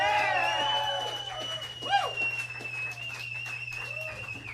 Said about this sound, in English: Man, that is a good whistle.